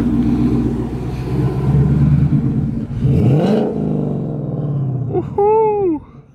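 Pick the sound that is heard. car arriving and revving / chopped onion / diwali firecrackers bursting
car arriving and revving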